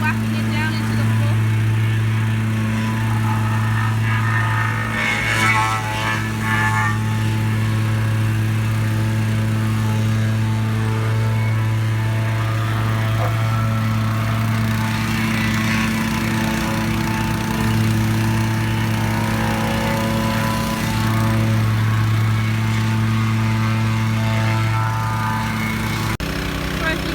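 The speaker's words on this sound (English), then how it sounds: "So this just compacts all of the mud on top of the dam by whacking it down into the floor." A compacting machine pounds mud down on top of a dam, a steady loud mechanical drone with a low motor hum running throughout, close by and continuous, with faint background sounds over it.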